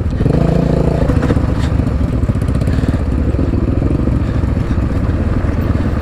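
A dirt motorcycle running sand tires up front and mountain knobbies at the rear revs hard and steadily, a loud, continuous engine roar close by with a rattly edge throughout.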